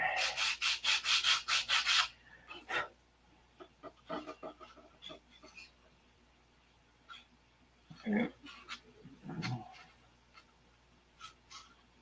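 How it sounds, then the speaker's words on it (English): A 1/2 A Cobra model airplane wing, built of wood, is sanded by hand: a quick run of close, rhythmic rubbing strokes at the start, then scattered quieter scrapes and handling sounds. "So, just need to get sanded a little bit."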